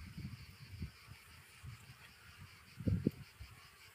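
Black honeybees buzzing around an open hive frame packed with honey, pollen and compact brood, a steady low droning hum with a louder swell of nearby wingbeats near the end.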